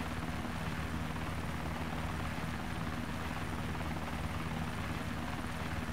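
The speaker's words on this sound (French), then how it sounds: "Oh, il y a un hélicoptère en bas." A helicopter in the survival video game DayZ gives off a steady, low, throbbing rotor drone, fairly faint and constant in the distance with no talk over it.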